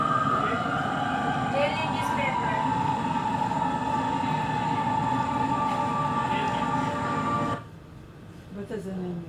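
A North Korean subway train rumbles along with a steady mechanical roar and high whining tone, loud and continuous, before abruptly dropping to a quieter hum near the end.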